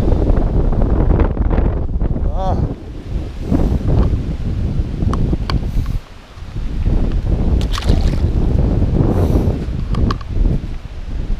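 Strong wind gusting outdoors beside a creek during fall smallmouth bass fishing, a loud continuous roar buffeting the microphone with rustling and faint water sounds.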